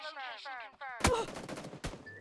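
Gunshots in the mobile battle royale game PUBG: New State: a voice talks briefly, then two sharp, loud bursts of gunfire crack out close together.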